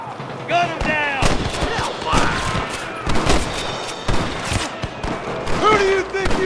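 Gunfire rattles through a Red Dead Redemption shootout, with rapid overlapping shots and bursts, loud and close, mixed with shouting voices and game sounds throughout.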